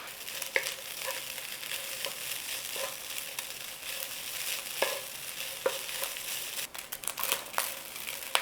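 Food browning in a hot pan for a dan dan mashed potato bowl sizzles steadily and close, with a dense crackle broken by scattered scraping stir clicks and a few sharper pops.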